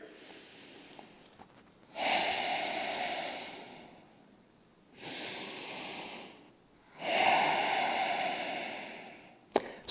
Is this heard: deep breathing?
yes